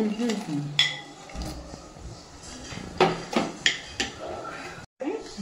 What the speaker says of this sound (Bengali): নাড়তে থাকবে, ঘন ঘন নাড়তে থাকবে